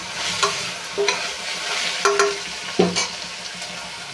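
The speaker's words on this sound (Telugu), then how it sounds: "ఉల్లిపాయలు అయితే ఫ్రై అయిపోయినాయండి" Onions frying in a pan for chicken curry under a constant close sizzle, broken by several distinct scrapes and knocks of a spatula stirring them.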